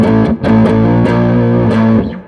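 Heavily distorted electric guitar chords ring out through an amp, struck several times in quick succession and sustaining with a thick, gritty buzz.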